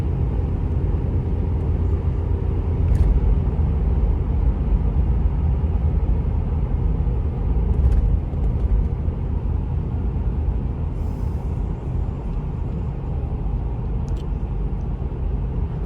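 A 2004 Toyota 4Runner with off-road modifications drones steadily while climbing a mountain in fourth gear at about 55 mph, a loud, constant engine and road rumble inside the cabin with a few faint clicks.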